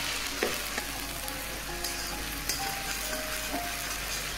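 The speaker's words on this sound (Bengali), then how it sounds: "এই পেস্টটা আমি এবার এর মধ্যে দিয়ে দেব। এখন একটু ভালো করে কষিয়ে নেব।" Chicken with spice paste sizzles and fries steadily in hot oil, a loud continuous crackle with occasional stirring clinks of a spatula against the pan.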